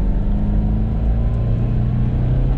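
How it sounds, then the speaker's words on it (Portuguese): A 40-year-old engine in a 1984 Volkswagen Parati runs at a steady idle, a loud, continuous low rumble with no voices over it. "Olha a vitalidade, né, desse motor com 40 anos"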